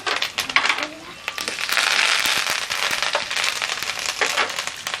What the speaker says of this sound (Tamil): கொஞ்சம் கருவேப்பிலை லேசாக போட்டுக்கலாம்.